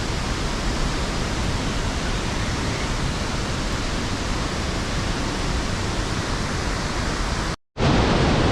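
A waterfall beside a forest path leading to the Anusuya temple pours as a loud, steady, close rush of water that drops out for a split second near the end before resuming.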